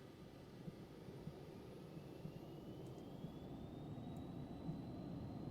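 Engines of a Phenom 300 business jet drone steadily through the cabin during the takeoff roll, a muffled rumble with a rising whine that climbs gradually and grows slightly louder.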